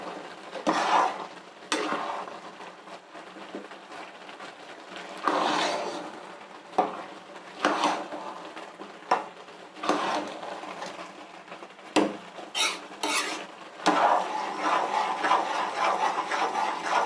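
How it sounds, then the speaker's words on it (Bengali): Chicken khichuri with spices stirred in a pot, giving repeated scraping and clinking strokes of a spoon against metal, fairly close, in irregular bursts with short pauses between. "ভালো করে নাড়িয়ে চাড়িয়ে নেব যাতে খিচুড়ির সাথে মশলাগুলো মিশে যায়।"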